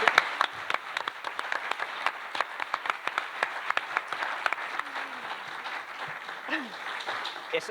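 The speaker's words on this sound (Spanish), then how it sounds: "yo creo que se merece un aplauso" Applause on a Spanish radio show: steady dense clapping from a small studio crowd, fairly soft and continuous, with a voice murmuring underneath.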